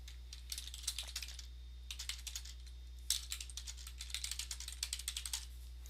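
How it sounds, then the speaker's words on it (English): Quick keystrokes clatter on a computer keyboard in uneven bursts while someone types a short note into a Word Online document, close up and alone over a low steady hum, with brief pauses between runs. "And just type me a quick note"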